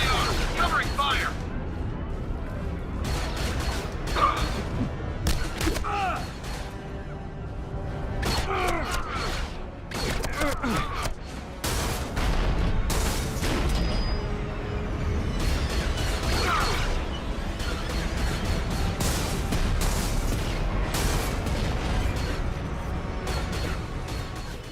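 Gunfire from Star Wars Battlefront 2, a dense stream of blaster shots and bursts with booming impacts, loud and continuous through a battle, with voices calling out between volleys.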